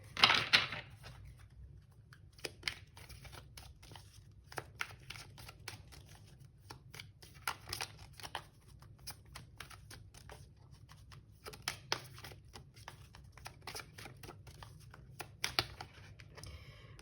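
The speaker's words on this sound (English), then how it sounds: "Now my best shuffle." Tarot cards being shuffled in a quiet room, soft riffling bursts and scattered taps repeating in short clusters at low volume.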